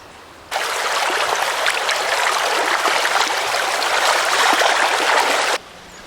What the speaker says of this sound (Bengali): জলের স্রোত দেখুন একবার